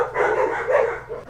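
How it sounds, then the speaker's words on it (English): Several dogs bark continuously in the background, a steady run of overlapping barks at moderate volume with no talk over them. "Don't mind the dogs barking in the background."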